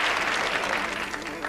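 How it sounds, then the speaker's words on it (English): A studio audience claps steadily on the 1989 Scrabble TV game show, a dense, even wash of applause that holds at full strength without pause. "all of a sudden everybody applauded on the last one"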